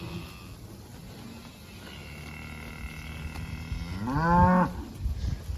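A cattle mob grazing on a pond dam, with one loud, close, drawn-out moo near the end over quiet outdoor background.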